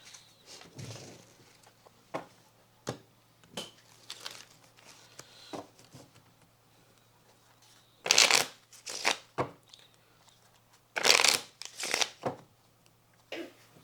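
Playing cards being shuffled and handled, with quiet riffles and taps building to two loud bursts of rapid riffling, no talking.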